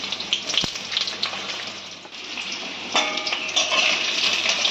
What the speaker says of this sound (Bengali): এবার কেটে রাখা লম্বা লম্বা আলুগুলো আমরা প্রথমে দিয়ে দেবো।